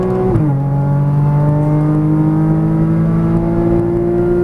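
A Porsche Cayman GTS on a racetrack pulls hard under acceleration, its engine note climbing steadily and loudly after a brief dip from an upshift near the start, a continuous close-up drone with no voices.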